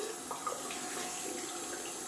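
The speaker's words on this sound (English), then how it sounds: "Just rinsing out that brush really quick down here" Tap water runs steadily into a sink as a shaving brush is rinsed, a soft continuous splashing at low volume.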